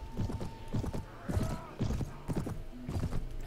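Horse hooves clip-clop steadily in the Viking Conquest video game, a repeated rhythmic trot of moderate loudness with faint game clatter in the background.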